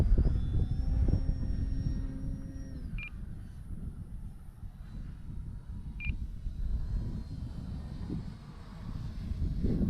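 An FMS PA-18 Super Cub RC model plane, 1300 mm span, flies in strong wind with a steady engine drone whose pitch shifts as it passes, plus two short electronic beeps and gusty wind noise.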